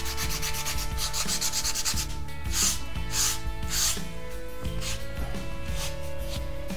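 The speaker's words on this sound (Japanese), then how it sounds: "軽くここをサンドペーパーをかけます。 これはね、細かいやつで400番ぐらいですね。" Fine 400-grit sandpaper rubs lightly over a gessoed canvas board, a steady close-up scratching that runs continuously without pause, alone and with no speech.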